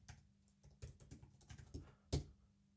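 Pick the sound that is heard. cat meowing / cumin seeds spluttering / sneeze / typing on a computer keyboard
typing on a computer keyboard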